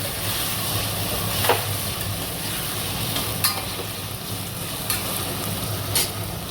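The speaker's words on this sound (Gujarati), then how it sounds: "આ ચારોથી હલાવવાનું, પ્રોપર એકદમ હલાવવાનું." Food being stirred in ghee in a pan, with a continuous frying sizzle and a few scraping knocks from the spoon against the pan, close and steady.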